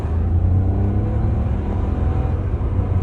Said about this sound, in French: Donc on y va, on accélère un petit peu.